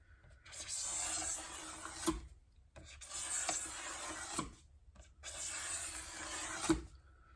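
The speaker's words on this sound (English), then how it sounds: "by scraping, we're saving ourselves a lot of sanding time" A scraper drags across discolored plastic on a tank during restoration, making three raspy strokes separated by short pauses, close and fairly quiet.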